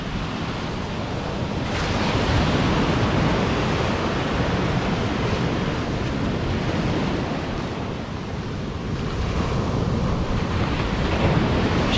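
Sea waves breaking and surging along the Yorkshire coast, a loud, continuous wash of surf with wind buffeting the microphone, rising slightly as a wave rolls in, with no voices.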